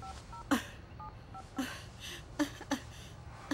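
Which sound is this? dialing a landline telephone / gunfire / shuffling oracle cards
dialing a landline telephone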